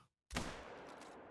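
Rifle fire in the hunting game theHunter: Call of the Wild: after a short silence a loud, sharp gunshot cracks out and a long, dense rumbling echo follows.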